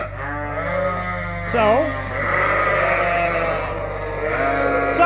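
Sheep in farm pens, ewes and rams, bleating loudly nearby in long wavering calls, with someone talking over them and a steady low hum underneath.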